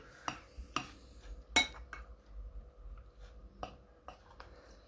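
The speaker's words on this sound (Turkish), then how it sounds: "şimdi karıştıracağım ve slime yapacağım" Slime mixture being stirred by hand, giving a string of light clinks and scrapes of a utensil against a bowl, irregular and close, quiet with no talking.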